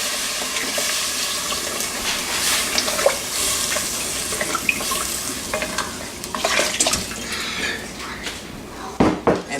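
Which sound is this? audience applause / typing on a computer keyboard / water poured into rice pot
water poured into rice pot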